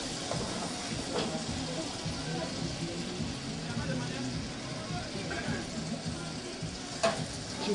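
Sauce with crushed pepper simmers and sizzles over raised heat in a restaurant kitchen, a steady crackling hiss that continues throughout with background noise and occasional clinks.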